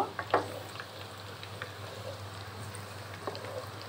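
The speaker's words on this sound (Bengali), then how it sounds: "তো পেঁয়াজটা কিন্তু আমরা মিডিয়াম টু লো আঁচে ভেজে নিব" Onions fry gently in oil over medium-low heat, a faint, soft sizzle with a few light pops and crackles over a low steady hum.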